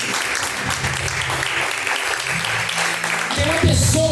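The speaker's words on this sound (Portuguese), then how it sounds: "As palmas que louvam o nome do Senhor" A church congregation claps in praise during a live service, a continuous crowd clapping under a loud voice, with a rise in intensity near the end.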